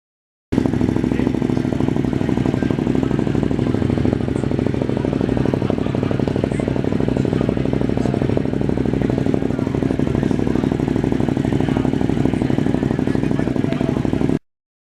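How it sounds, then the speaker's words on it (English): Ducati Monster motorcycle, custom-finished and parked at an outdoor bike meetup, with a loud, continuous engine rumble throbbing steadily close by for the whole stretch. "Ducati Monster."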